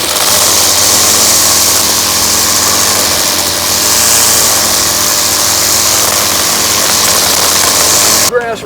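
A string trimmer whines continuously at close range, its high-pitched engine steady throughout as it edges grass.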